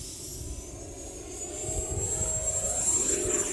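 A Viper Jet RC plane with a 90mm electric ducted fan takes off from a bumpy runway, its high, steady fan whine rising and getting louder as it climbs away.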